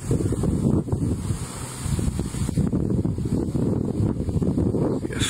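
Strong wind buffets the microphone during a fire in Lezhë, a loud continuous roaring rumble with gusting surges and no clear voices.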